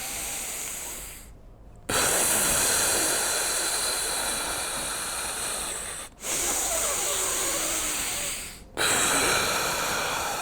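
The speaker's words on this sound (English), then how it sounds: "Let me breathe deeply but very," Deep, tense, controlled breathing, loud and close: long hissing breaths follow one another, separated by three brief silent pauses.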